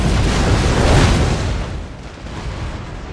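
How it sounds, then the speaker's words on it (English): Rocket fire in an Empire: Total War battle, a loud, broad roaring blast that swells in the first second and then slowly decays into a rumbling tail. "Danger close rocket fire."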